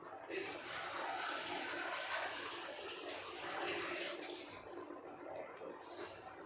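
Pumpkin pieces are dropped into water in a home kitchen, followed by a steady rushing and splashing of water for several seconds, moderately close, with a few brighter splashes near the end.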